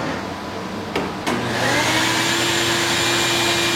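Steady, loud whine of a power saw runs continuously while cutting quarter-inch wood for a straight, non-folding game table, with a couple of brief clicks at the start.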